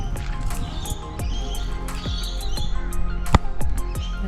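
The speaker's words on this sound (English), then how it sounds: "Lots of birds." Many birds chirp and call at a riverside free campsite in Iron Range National Park, short bright tweets and squawks overlapping in a steady busy chorus, fairly close, with no talking.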